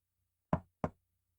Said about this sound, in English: 3 short knocks.